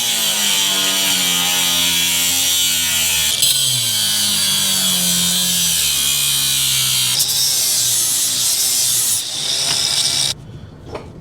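Metal rear trailing arm being cut with a power tool, a loud, steady, buzzing whine that holds for about ten seconds with slight pitch shifts before cutting off abruptly near the end.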